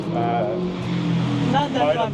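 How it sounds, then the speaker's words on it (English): A motorbike storms past on a busy Shanghai street with a throaty engine rising and falling, heard under steady traffic hum while people talk close by. "motorbike just goes storming by"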